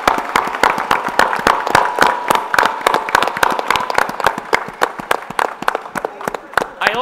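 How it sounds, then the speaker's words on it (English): Crowd applause for a poetry prize winner at a literature festival, rapid crisp claps from nearby hands over a softer wash of audience clapping, with a voice speaking beneath it. "Please applaud."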